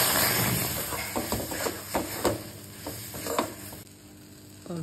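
Fried spice masala for chana dal paratha sizzles loudly in a pan as water is added, a close, crackling hiss with stirring scrapes that eases toward the end.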